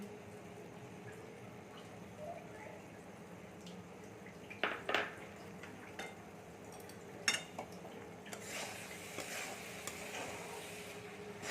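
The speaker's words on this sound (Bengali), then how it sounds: "দুধটা দিয়ে ভালো করে নেড়ে নিয়েছি" Amul milk is stirred in a pan while making sandesh, a quiet simmering bubble under scattered spoon scrapes and clinks against the pan.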